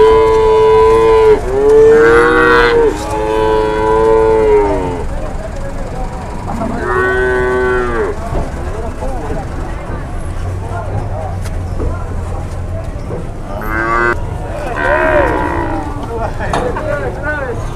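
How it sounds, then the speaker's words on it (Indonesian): Jumbo cattle being loaded onto a truck at a market, lowing in several long loud moos, close by, with voices and background commotion between calls. "Itu tadi di dalam sudah muat 8 ekor sapi jumbo."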